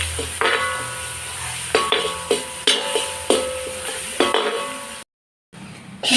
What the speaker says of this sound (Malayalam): ഇതൊരു ബ്രൗൺ കളർ ആവുന്നവരെ നമ്മൾ നന്നായിട്ട് ഇളക്കി കൊടുക്കും.